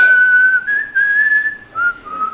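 A person whistles a wavering, high tone in a few short phrases, mimicking an eerie whistling sound, close and clear.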